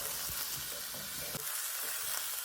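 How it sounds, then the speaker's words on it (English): Frozen turkey burgers cooking in a pan, giving a continuous sizzle with soft scattered pops and light scraping, steady and fairly close with no talking. "They'll just go right into my pan, completely frozen, and I'm going to heat them through."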